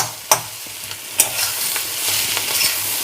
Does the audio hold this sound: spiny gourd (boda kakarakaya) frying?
yes